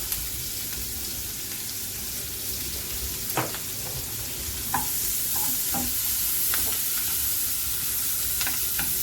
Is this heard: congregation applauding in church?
no